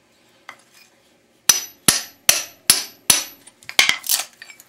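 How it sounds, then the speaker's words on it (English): A hammer strikes a chisel set under a speaker magnet to part it from its base: one light tap, a pause, then a run of sharp, ringing metallic blows, loud and close, speeding up at the end. "So we'll put the chisel again right in the center."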